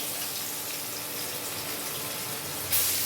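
Pieces of bhetki fish fry in hot oil, making a steady, close, dense sizzling hiss that swells slightly near the end.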